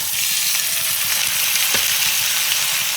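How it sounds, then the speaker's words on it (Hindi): Chicken and onions fry steadily in a pan, the browned onions giving off a loud, continuous close sizzle with faint crackles throughout. "यहाँ में मैं बनाने जा रही हूँ चिकन। मतलब बन ही गया है लगभग, प्याज वगैरह लाल हो चुका है"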